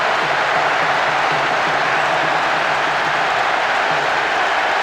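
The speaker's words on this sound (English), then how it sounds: "The capacity crowd are enjoying the goal celebration." Stadium crowd in PES 6 on PlayStation 2 roaring and applauding a goal celebration, a dense, steady wash of cheering noise at constant loudness with no distinct voices.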